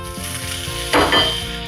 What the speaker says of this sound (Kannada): ಇವಾಗ ನೋಡಿ, ಒಗ್ಗರಣೆ ಹಾಕ್ತಾಯಿದ್ದೀನಿ ನಾನು.